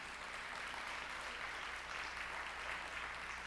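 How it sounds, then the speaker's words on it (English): Faint, distant audience applause forms an even, unbroken patter over a low hum during a school superintendent's state of the schools address. "we need to applaud the accomplishments of our kids."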